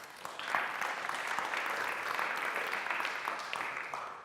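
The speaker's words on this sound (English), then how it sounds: "So please give them a warm round of applause." Audience applause for a panel at a talk on perceptions of Christians in the media, a steady wash of many hands clapping that carries evenly through the whole stretch.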